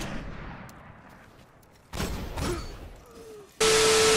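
Sniper rifle shots from a longbow in a video game, a couple of sharp booming cracks mid-clip followed by a sudden loud, steady burst of game sound at the end.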